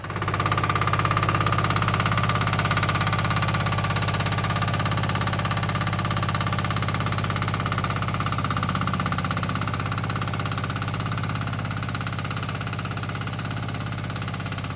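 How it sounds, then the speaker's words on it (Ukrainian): A DTZ walk-behind tractor engine runs steadily while ploughing a furrow in a garden, a loud continuous mechanical drone with a knocking, vibrating edge close by, no talking. "Зараз буду їхати в перший рядочок сюди, малювати плугом канавочку для колеса."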